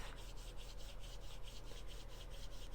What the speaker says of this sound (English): I rub it between both hands, and I will rub them back and forth.